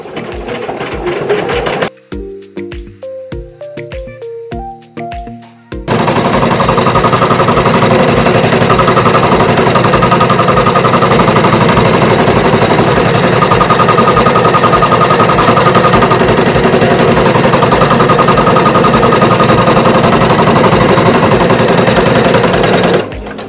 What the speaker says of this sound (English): So we can start the machine going.